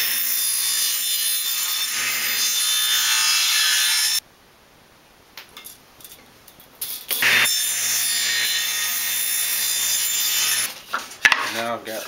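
Scrap wood being hand-sawn into pieces for a spice rack, a steady loud rasping stroke rhythm for about four seconds, a pause with light handling knocks, then sawing resumes and ends with clattering pieces.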